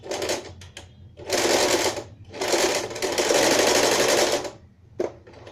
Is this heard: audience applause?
no